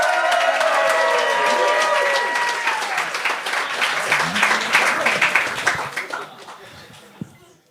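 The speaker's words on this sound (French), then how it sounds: "faites un tonnerre d'applaudissements pour la personne qui brise la glace," A television game-show studio audience bursts into applause and cheers for the opening performer, loud at first with shouts over the clapping, then thinning to scattered claps that fade out.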